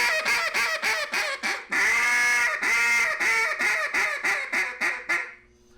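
Several quacking ducks are imitated by a duck call, a voice-blown instrument, in a fast run of short loud quacks that breaks into longer drawn-out chatter in the middle and returns to quick repeated quacks before a brief fade.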